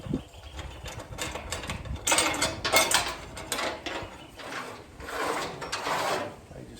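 A slider bracket on a ute tray divider being slid and adjusted, giving a series of close metallic scrapes, clicks and sliding rattles in uneven bursts with no talking.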